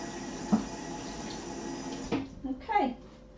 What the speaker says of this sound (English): let me just wash that spoon up